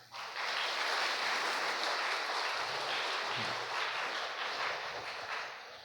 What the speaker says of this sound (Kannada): ಈಗ ಒಂದು ಬಾರಿ ಎಲ್ಲರಿಗೋಗಿ ಚಪ್ಪಾಳೆಯನ್ನು ನೀಡೋಣ